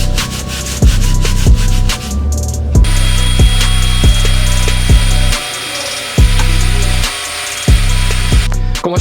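An aluminum VR6 crankcase is scrubbed clean with gasoline in loud, rhythmic back-and-forth strokes about once a second, close up, with brief pauses between bursts and no talking.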